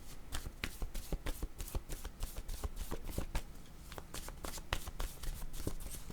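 Oracle cards are shuffled rapidly by hand at close range, a continuous run of crisp riffling flicks that goes on throughout at moderate loudness.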